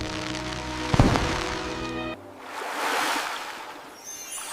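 Fireworks burst in the sky over a fairy kingdom on New Year's night: one sharp bang rings out over music near the start, then a broad, hissing, crackling wash fills the rest.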